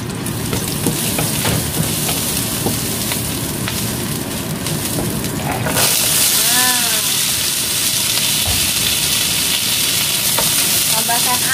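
Meat sizzles loudly in a hot wok, a constant dense crackle and hiss that grows brighter midway, with faint clinks of a utensil stirring.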